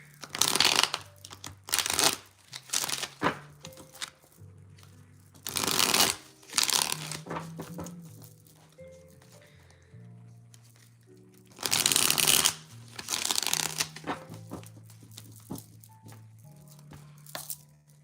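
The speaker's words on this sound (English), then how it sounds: "Let me do a shuffle here." Cards are shuffled several times close up, loud riffling bursts separated by quieter stretches, with a low tonal hum underneath.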